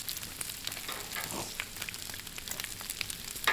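Sausage sizzling on a Blackstone griddle, a steady crackling hiss with fine popping spatters throughout, close and continuous, with no voices.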